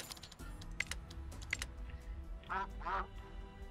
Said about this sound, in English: What are you quacking at me for?